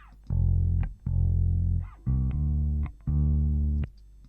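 A distorted bass synth plays four sustained, buzzy low notes in a simple rhythm, each cut off cleanly, solo and up close.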